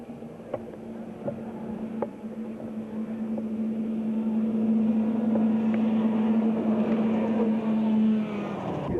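Class B race vans launch off the start line at a 1987 Terryville race, their engines rising into a steady, loud, droning roar that swells and holds for several seconds with no talk over it.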